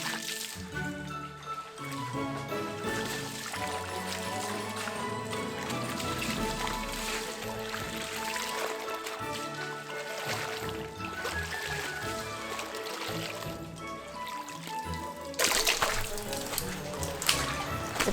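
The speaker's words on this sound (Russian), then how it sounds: "Промываем 3 раза, чтобы убрать соль." Salted napa cabbage is rinsed in a basin of water for kimchi, with steady sloshing, splashing and dripping as the leaves are handled, close and continuous.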